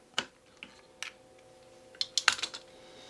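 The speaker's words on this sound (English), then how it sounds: "I'm just going to do a vertical cut into the wood and then just take a little sliver off." A knife slices vertical cuts into a wooden topwater fishing lure blank and shaves off thin slivers. It comes through as sparse, quiet, sharp clicks and short scrapes, with a small cluster of quick cuts near the end.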